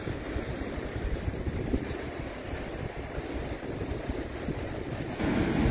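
Strong wind at the beach cliffs of Praia da Falésia roars steadily into a phone microphone, with dense buffeting rumble and distant surf beneath, loud and continuous, with no voices.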